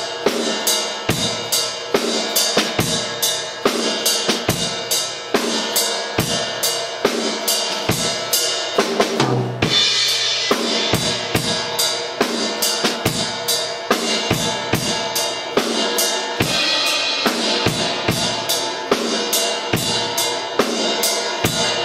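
A drum kit plays the post-chorus groove of a song, steady kick and snare hits with ghost notes and cymbal strokes in a repeating pattern, a crash swell around the middle, played alone and close.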